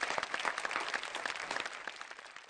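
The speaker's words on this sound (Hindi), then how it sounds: "अभी आप इनके स्वागत में तालियां बजाएं" A studio audience on a Hindi TV show claps enthusiastically to welcome a guest, a dense, steady burst of applause with scattered sharper claps standing out, holding its energy for a couple of seconds.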